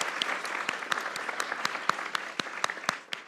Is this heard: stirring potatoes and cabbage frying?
no